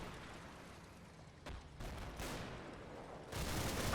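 Troops firing in the World War II strategy game Combat Mission: Battle for Normandy, a quiet stretch of distant gunfire with bursts and volleys that swell in louder waves toward the end, heard alone without voices.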